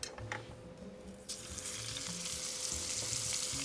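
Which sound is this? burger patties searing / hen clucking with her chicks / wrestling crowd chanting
burger patties searing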